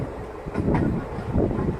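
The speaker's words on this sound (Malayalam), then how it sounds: "നമ്മുടെ ട്രെയിൻ എങ്ങനെ ഇതാ രാമേശ്വരത്തോട്ടുള്ള റെയിൽവേ ലൈനിലോട്ടാണ് ഇപ്പോൾ ഇതാ തിരിഞ്ഞു പൊക്കോട്ട് നിൽക്കുന്നത്" A Rameswaram passenger train rolls along the single-track Rameswaram line from Madurai, a rumbling, rattling run with wind buffeting the microphone, loud and continuous.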